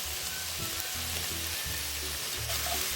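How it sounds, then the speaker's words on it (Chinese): Udon noodles stir-fried in a pan with black pepper sauce and red chili strips, giving a steady close sizzle and frying hiss with recurring low scraping stir strokes throughout, no voices. "然后再将乌冬面加入拌炒。"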